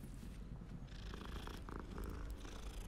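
A cat being petted in Hogwarts Legacy purrs in a soft, steady rumbling loop, close and fairly quiet, with faint background ambience and no talking.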